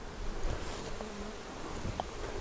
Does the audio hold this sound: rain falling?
no